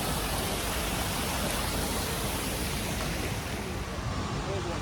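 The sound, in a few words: splashing water of a fountain in Italy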